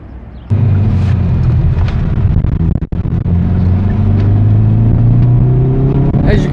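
A 2020 Hyundai Veloster N exhaust rumbles loud and close, with a deep engine note that rises as it revs, holds steady and climbs again.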